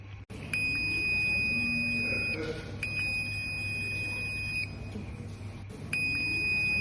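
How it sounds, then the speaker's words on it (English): A high electronic buzzer on an automatic door control circuit sounds in long sustained tones, cutting off and restarting several times, with a low hum and faint voices beneath. "Also, the buzzer will sound it."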